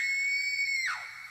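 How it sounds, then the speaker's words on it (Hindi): A woman's terrified scream rings out loud and sustained at a high pitch, then breaks off and slides downward into a fading wail, with no talk around it. "साथ में अनामिका की भयानक चीख भी सुनाई दी"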